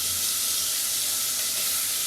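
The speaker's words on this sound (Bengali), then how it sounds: "তারপরে পেঁয়াজ" Onion hitting hot oil in a home kitchen pan, giving a constant near sizzle and bright hiss that runs unbroken with no talking over it.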